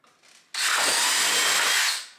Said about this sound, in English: You just push it down and you let the drill do most of the work for you.